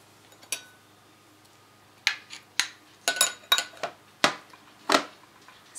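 Ground flaxseed is added to applesauce in a bowl, giving a sparse series of sharp spoon-on-dish clinks and taps, close and fairly quiet, scattered irregularly with short silences between them.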